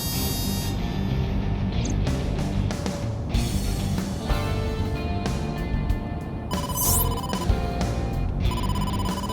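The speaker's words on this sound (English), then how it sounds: "incoming call from the boss" An incoming-call phone ringtone from the video game AI: The Somnium Files trills steadily in repeated electronic bursts, loud and alone with no talking.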